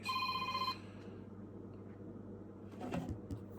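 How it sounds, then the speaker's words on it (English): A telephone rings with an incoming call, a bright, steady electronic ringtone at moderate level lasting under a second before cutting off, followed by quiet room noise and a faint rustle. "My brother's calling me."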